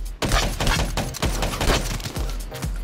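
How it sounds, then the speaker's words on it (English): An M8 rifle firing in the video game Black Ops 3 during a free-for-all match, heard as rapid, loud, sustained bursts of gunfire in close succession. "It's the M8 gun."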